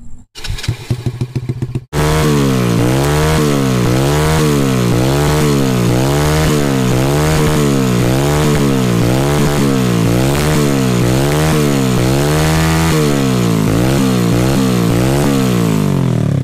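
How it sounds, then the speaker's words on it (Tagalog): Rusi Mojo 110 motorcycle fitted with an Akrapovic exhaust, silencer removed, revving loudly in a steady rising-and-falling rhythm for about fifteen seconds after a brief starting sputter, close and alone. "Ganyan kalakas ang Akrapovic na pipe pagka walang silencer."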